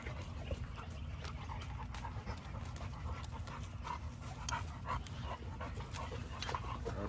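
Several eight-week-old puppies pant steadily up close, with occasional soft whimpers over a dense, continuous background.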